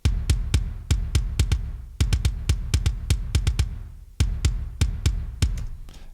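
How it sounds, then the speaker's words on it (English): Programmed kick drum sample from a metal mix, played alone as fast repeated punchy thumps in rapid double-kick bursts with brief pauses between phrases, loud and close. "the kick sounds like this"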